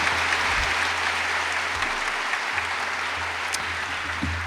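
A crowd claps steadily in sustained applause after a speech at a medical school white coat ceremony in the Detroit Opera House, dense and even, without a break across the clip.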